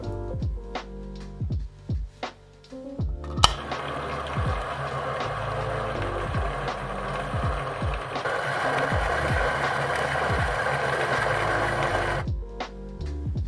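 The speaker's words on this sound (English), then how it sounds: "Then, grind your coffee beans." A Niche Zero conical burr grinder grinds coffee beans for pour-over, starting with a sharp click and then a loud, steady whirring crunch for about nine seconds before stopping, with light ratcheting clicks of handling before and after.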